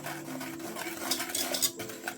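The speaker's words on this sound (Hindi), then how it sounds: "इसको ये देखें इस तरीके से अच्छे से मिक्स करेंगे।" Milk being mixed into dry chocolate fudge cake ingredients, a spoon or whisk scraping and clinking against a bowl in a continuous close, moderately quiet stirring.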